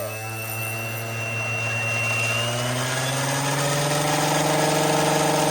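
Electric motor and rotor of a 16-year-old Vario MD-500E RC helicopter at ground idle, a steady close whine with harmonic tones that rise slightly in pitch and grow a little louder.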